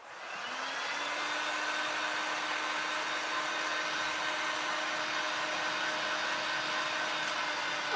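A handheld dryer blows on a thick printed fish towel, spinning up within the first second to a steady, loud whirring whine that holds evenly throughout.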